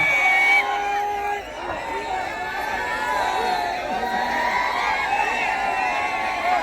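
Large crowd at an outdoor music show in Karnataka, a dense, steady hubbub of many voices with scattered shouts and whoops, with a few brief tonal sounds near the start.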